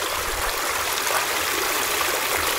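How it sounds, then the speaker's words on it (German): A stream runs along a creek bed beside a marble run at Edelwies, a leisure park in Bavaria, giving a steady, close broadband rush of flowing water with no pauses. "The water is running."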